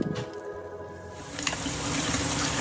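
Tap water runs steadily while something is rinsed in a kitchen during pancake prep with a Costco mix, the flow starting softer then swelling louder and fuller after a brief splashy burst.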